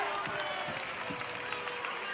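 Darts crowd at a tournament in Gibraltar cheering and applauding, a steady broad wash of clapping and voices filling the hall, with commentary heard over it.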